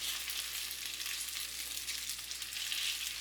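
Beef sizzles in hot olive oil in a pan, a steady, soft hiss of frying that holds evenly throughout, fairly quiet and with no voices.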